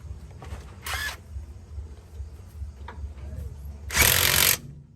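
Two short bursts from a power tool driving bolts on a 1.5 ton tractor rear axle, a brief whirr then a longer louder one, over a low background hum.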